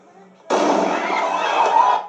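Firecracker rocket bursting close by with a sudden loud crack that spreads into a dense, sustained crackling roar lasting over a second and a half.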